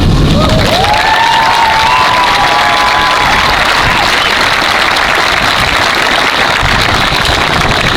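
Sustained applause and cheering from a large crowd at a 2023 Live Oak High School graduation ceremony for student speakers, a dense steady roar throughout with a few high whistles or shouts near the start.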